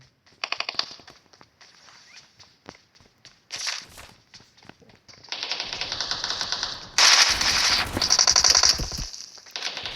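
Gunfire in PUBG Mobile comes in bursts of rapid automatic shots mixed with footstep-like tapping, growing louder and denser toward the end, with no talking.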